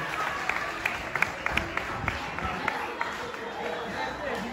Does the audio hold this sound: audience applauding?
yes